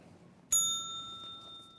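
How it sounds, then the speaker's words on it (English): A single bright ring of a small hand bell struck by a talk show host, a sharp near strike followed by a clear sustained ringing tone that slowly fades in a quiet room. "when I agree with a guest, then I ring the bell"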